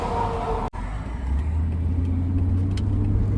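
A Nissan Hardbody pickup truck cruises on a highway at night, giving a steady low engine and road drone with a brief cut near the start, then a rising rumble as it pulls along.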